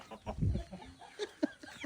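A chicken belonging to a family's pet flock clucks in a few short, close bursts after being knocked down, with a louder squawk near the start and sparse, uneven calls after it.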